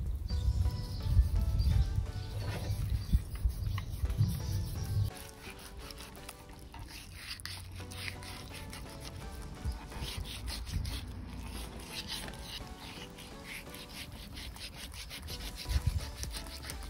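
A knife cuts the spinal cord out of a sturgeon being prepared for shashlik, with close, continuous scraping and rubbing strokes, heavier at first and then lighter and more rasping.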